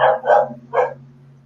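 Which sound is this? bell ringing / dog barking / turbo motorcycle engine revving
dog barking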